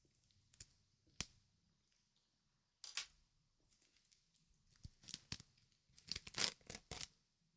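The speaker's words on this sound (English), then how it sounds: "A little bit of plastic unwrapping ASMR." A blade slices and tears plastic packaging, and the wrap is pulled off in sharp isolated snaps and then a dense burst of crinkling and ripping, close and crisp in a quiet room.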